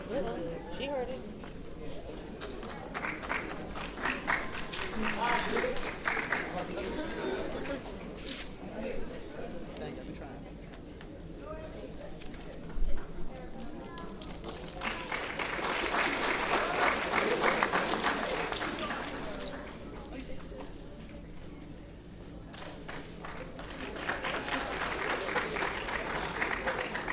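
At a graduation ceremony, an audience claps for an award recipient in two waves of applause, and ongoing crowd noise and murmuring run beneath them.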